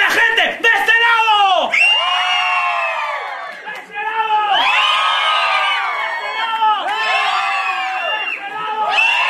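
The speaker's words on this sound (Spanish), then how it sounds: "A ver, gritos de la gente de este lado." Crowd at a quinceañera party in Chalcatongo shouting and cheering in loud, overlapping waves of whoops and yells, swelling and dipping several times across the stretch.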